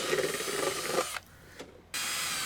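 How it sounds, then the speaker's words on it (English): A steady, loud mechanical whir of a power drill boring a hole in a model airplane for the carburetor mixture adjustment, running continuously, cutting off abruptly partway, then resuming after a short quiet gap. "Then drill a hole for the carb mixture adjustment."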